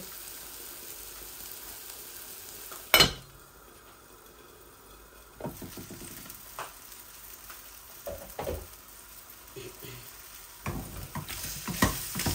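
Onions soften in a hot pan with a soft sizzle, broken up by scraping stir strokes and spoon clatter that come in uneven bursts, plus one sharp knock early on.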